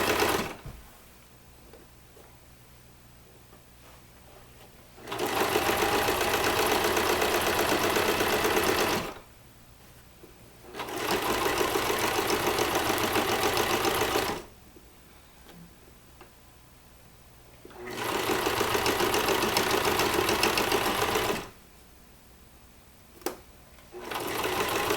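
A sewing machine stitches the seams of a reversible purse in four separate loud bursts, each several seconds long, with quiet pauses between them. It is close and there is no talk.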